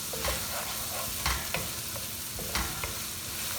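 Chili and onion curry paste sautéing in a pan for chana masala, a steady close sizzle broken by several sharp scrapes and stirs of a spoon against the pan, with no talking.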